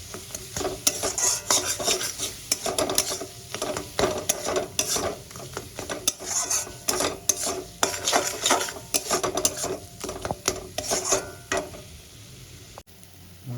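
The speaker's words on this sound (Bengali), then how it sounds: "এবার মশলাগুলো দিয়ে দিয়েছি খুব ভালো করে কষাবো" A utensil scrapes and clinks repeatedly against a pan while spice paste fries with a soft sizzle underneath, close and busy, in quick irregular strokes.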